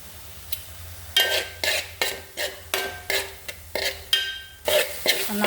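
Onions and cumin stirred in a hot pan for a homestyle Kerala chicken curry, a spoon scraping and clanking against the metal in about ten distinct strokes over a soft sizzle.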